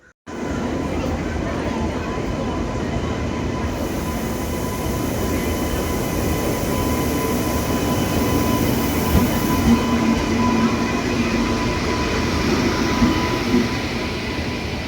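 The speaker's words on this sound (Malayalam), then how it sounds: "നമ്മൾ ട്രെയിൻ പ്ലാറ്റ്ഫോമിലേക്ക് വന്നുകൊണ്ടിരിക്കുന്നുണ്ട്" A steady, loud rumble of a train hauled by a WAP7 electric locomotive arriving at a platform, with a faint high squeal and a constant low drone throughout.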